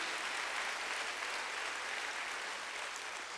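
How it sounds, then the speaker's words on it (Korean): Church congregation applauding together during a sermon, a steady dense wash of clapping filling the room at moderate volume without a break. "박수 한번 하세요."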